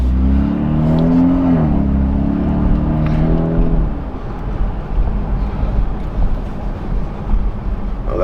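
A Kia Stinger GT pulls away and speeds up, its engine note rising in pitch over the first few seconds, then settling into a broad, steady rumble of road and engine noise from inside the car.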